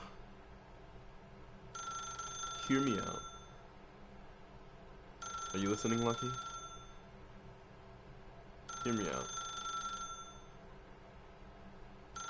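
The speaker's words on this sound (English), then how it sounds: "I'm gonna sit here until that phone keeps ringing." A video game telephone bell rings in three evenly spaced bursts, each a few seconds long, while a voice speaks between and over them.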